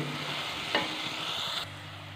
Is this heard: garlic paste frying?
yes